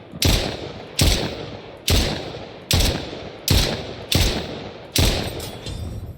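Gunfire in an indie video game, seven evenly spaced single shots about a second apart, each a sharp loud crack with a short decaying tail, alone without talk.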